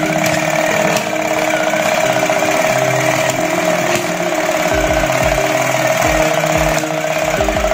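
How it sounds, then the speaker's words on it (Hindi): Engine sound effect from a battery-powered toy motorcycle track racing game for kids, a continuous buzzing motor tone with a looping electronic engine hum, steady and close, with faint clicks. "तो आप फील कर सकते हैं जैसे कि ऐसा सुन सकते हैं इसको कि हाँ ये इंजन साउंड आ रही है आपकी।"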